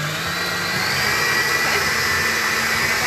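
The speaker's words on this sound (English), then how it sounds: "I'm going to let the cake, the butter and the sugar whisk up quite light." An electric whisk beats butter and sugar for a cake, a loud steady motor whine that runs continuously close by without pauses or talking.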